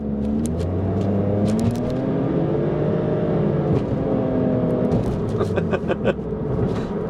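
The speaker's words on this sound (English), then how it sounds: "Uses a few more revs and it uses the electric motor at the same time" A Suzuki Spacia hybrid car engine hums and revs steadily up close, rising and falling in pitch over several seconds, with a faint whir of the electric motor underneath.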